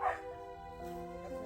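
A female dog gives a sharp bark followed by whiny yips and whimpering tones, close by with a faint indoor background murmur.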